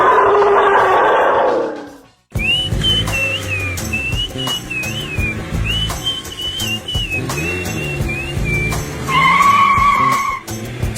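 A car skids to a stop with a loud, sustained tire squeal wavering over engine noise for several seconds, followed by a second sharper squeal near the end.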